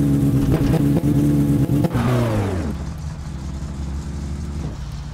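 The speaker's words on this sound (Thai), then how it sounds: "เร่งเครื่องหน่อย" A car engine in the video game My Summer Car revs hard while the car is stuck, pitch climbing, then drops off abruptly to a low idle hum; loud and close, with no talking.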